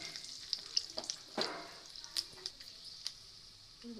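Soft sizzling of cumin seeds hitting hot oil, with scattered pops and a few stirring scrapes, close and fairly quiet.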